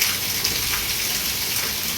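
Steady rain pours outdoors where saplings are being planted, a dense, even hiss of falling water close by with no voices.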